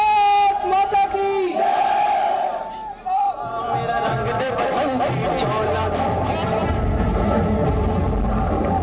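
A large crowd at a road show rally in Amritsar roars and chants loudly and continuously, with a voice rising over the din near the start and rumbling traffic beneath.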